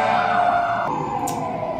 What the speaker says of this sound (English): Like this ambulance right now.